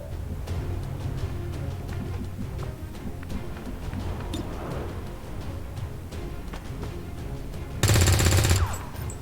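Sustained heavy gunfire in the XCOM 2 video game, a dense run of rapid shots with a louder, harsh burst of fire near the end, no talk over it.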